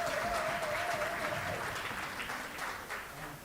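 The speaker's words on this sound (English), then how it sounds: "Can we please give him a round of applause?" An audience at a panel discussion launch gives a round of applause, a steady wash of clapping that slowly thins and fades, with a brief tonal whistle near the start.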